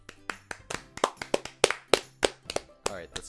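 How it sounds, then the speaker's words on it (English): A small group claps their hands, about a dozen sharp, uneven claps in quick succession, close and dry, fading out briefly toward the end. "Alright, that's enough clapping."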